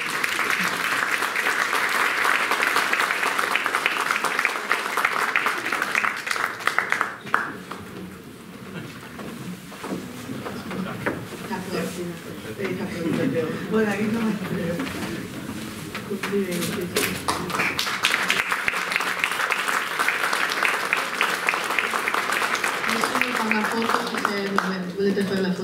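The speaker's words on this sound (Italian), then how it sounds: "Farei anche un applauso." An audience at a student volunteer awards ceremony breaks into sustained applause, which dips in the middle while a voice speaks over scattered clapping, then swells again into full, dense clapping.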